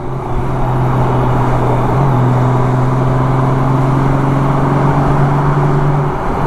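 Constant road roar from a Honda Goldwing motorcycle cruising along a street in Memphis, with a steady low engine drone and a faint whine that shifts slightly midway, loud and close throughout.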